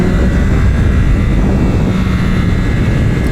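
A Yamaha R9 motorcycle engine at speed on a race track, producing a loud, steady, continuous roar with broad rumble and wind noise throughout, no speech.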